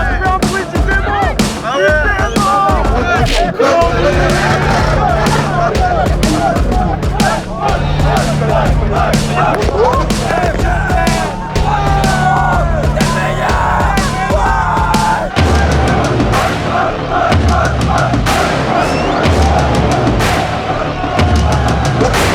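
Crowd gathered at the Gumball rally, a dense, loud hubbub of yelling and chatter with scattered shouts and a steady low drone running beneath throughout.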